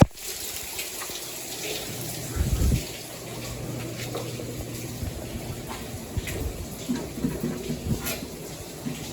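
Water gushes steadily from a failed automatic feeder on a steam boiler that is flooding a house, a constant rushing and splashing pour with a thumping burst early on and some faint sounds over the flow.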